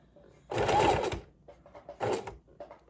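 A sewing machine stitching lace trim onto a junk journal cover, two short whirring bursts of stitching, close and fairly quiet, with light handling noises between and no talk over it.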